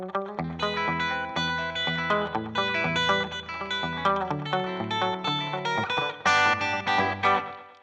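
An electric guitar on the middle pickup plays a fingerpicked melody with bass notes and chords through chorus, distortion and echo effects, clear and continuous with no voices.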